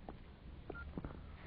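Mobile phone keypad tones: a short series of separate dialing beeps as a call is placed to the Movistar balance line, heard close and alone with no talk.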